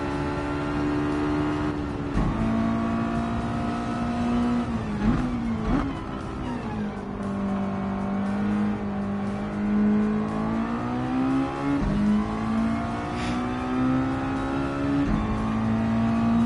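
A race car engine in Gran Turismo 7 holds a loud, steady drone with rising and falling pitch as it revs and shifts, running continuously with no talk over it.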